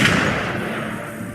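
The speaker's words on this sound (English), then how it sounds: "Gunfire! We've got intruders." Gunfire in a video game, a single heavy booming thud that fades out over a second and a half, loud and close with nobody speaking.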